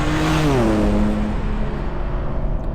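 A 2021 BMW M3 G80 with a sport exhaust drones steadily from inside the car, the engine note dropping in pitch as it shifts or eases off, loud and continuous with no talk.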